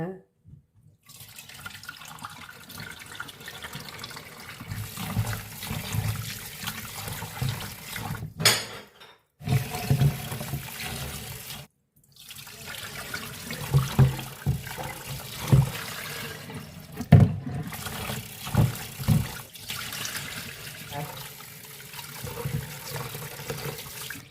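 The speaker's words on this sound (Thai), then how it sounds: "เราจะนำข้าวฟ่างมาล้างนะคะล้างประมาณ 3-4รอบ" Millet grains are rinsed in water in a kitchen, with splashing, swishing and clinking of a bowl in uneven bursts separated by brief pauses, close by, while someone talks over the sounds.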